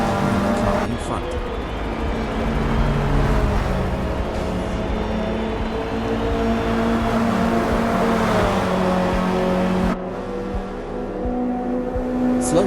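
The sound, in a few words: Volkswagen Golf GTI race car engine accelerating in Forza Motorsport video game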